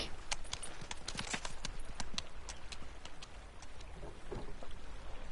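Horse hooves clip-clopping through heavy snow in the video game Pentiment, a steady run of moderately close, crisp hoofbeats with no talk over them.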